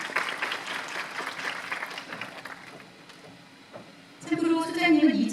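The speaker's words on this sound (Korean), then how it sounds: "여러분 큰 박수로 맞아주시기 바랍니다" Audience applause welcoming an expert interviewer at a mock job-interview session, a soft, diffuse patter of clapping that fades briefly before a voice speaks over the end.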